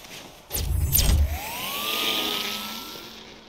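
A police car siren from the Batman Telltale video game sweeps upward and then holds a steady wail, over a brief burst of low rumble near the start.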